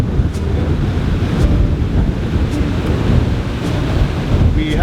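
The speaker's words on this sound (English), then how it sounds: "Just as we got close to land, the wind just picked up considerably." Strong wind and breaking waves around a sailboat rounding Cascais toward the River Tagus, a loud continuous roar of gusts buffeting the microphone and rushing water, with faint brief clicks and no clear talk.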